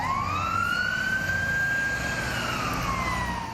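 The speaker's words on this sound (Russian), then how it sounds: "К месту происшествия приехали сразу 2 кареты скорой помощи." An ambulance siren at a road accident scene on the Gorkovskoe highway in Kazan, one slow rising and falling wail over a steady rumble of traffic, moderately loud and without speech.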